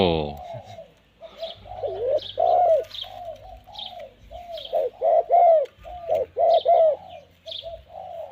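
Repeated soft dove coos in rhythmic bursts, fairly close, with brief chirps between and a low steady hum underneath.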